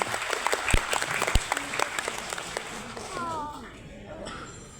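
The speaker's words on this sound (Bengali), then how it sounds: "সবাই স্যারের জন্য একটি জোরে করতালি হবে প্লিজ" Applause from an audience at an art exhibition event in Bangladesh, dense clapping close by that is loud at first and thins out toward the end, with a voice speaking briefly near the end.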